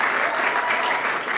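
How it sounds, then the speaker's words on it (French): Audience applause for a mother at a champion's tribute event, a dense, steady clapping that fills the whole short moment at an even level. "Vraiment applaudissements pour la maman"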